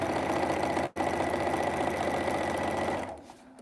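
Sewing machine top stitching fabric on a mug rug, a fast, even mechanical chatter running close and steady, broken by one brief pause, then slowing and stopping at the end.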